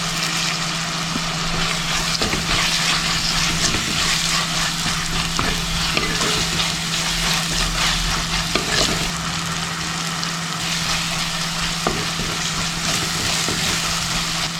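Shallots and curry leaves sautéing in a pan for a Kerala stingray fish curry, a loud, continuous sizzle with occasional stirring scrapes and a steady low hum beneath, close throughout with no voices.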